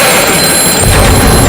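A telephone rings loudly and continuously, a dense, shrill ringing that fills the whole moment with nothing else audible.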